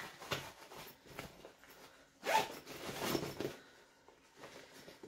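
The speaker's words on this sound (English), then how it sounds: "Because I see how my zippers have gone all the way to the edge" A zipper is pulled along a handmade sewn fabric handbag in several short rasping strokes, with brief pauses between them and a louder, longer pull near the middle, heard close up with no talking.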